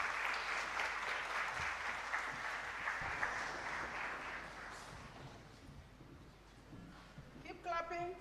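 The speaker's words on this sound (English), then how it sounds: "Keep clapping" A large audience applauds continuously and steadily as a dignitary is welcomed at a university job fair, the dense clapping gradually thinning toward the end.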